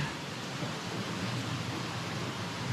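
Rain falls outdoors in the woods during a storm, a steady, even hiss that stays constant throughout the short stretch, with no voices.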